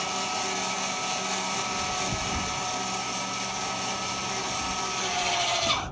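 Electric stabilizer jacks on a 2025 Forest River Salem 22RBS camper run with a steady, loud motorized whine that holds evenly throughout before cutting off at the end.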